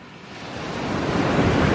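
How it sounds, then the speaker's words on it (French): Large ocean waves breaking on a beach on a late-summer morning, a steady broadband roar of surf that swells gradually louder, with some wind rumble and no voices. "Il y a d'énormes vagues."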